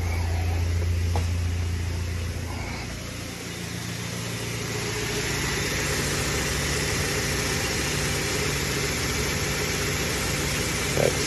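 A Toyota Hilux with a 2.7-liter 3RZ-FE gasoline engine idles low and steady, a continuous close rumble with a slightly uneven, choppy pulse and no talking.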